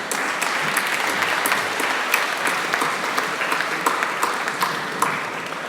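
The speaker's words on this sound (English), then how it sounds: "Can we please have a huge round of applause for all the mentors that help you make your hacks happen?" A large crowd at a hackathon's final demos applauds steadily and loudly throughout, a dense wash of clapping with a few sharper individual claps standing out.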